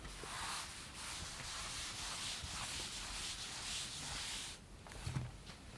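Steady broadband scrubbing of a duster rubbing chalk off a classroom blackboard, continuous strokes for several seconds with a few brief pauses, moderately close and heard alone.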